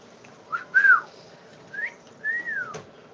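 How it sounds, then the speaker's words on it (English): Someone whistles a few short, sliding notes up close, loud and breathy, with gaps between them, like a quick catcall. "Whistle at the girls."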